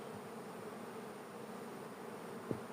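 Honey bees flying around hives at an apiary during the sunflower nectar flow in July, a soft steady buzzing drone with one brief nearer insect pass near the end.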